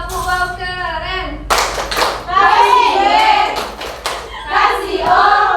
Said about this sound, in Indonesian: Tepuk wow keren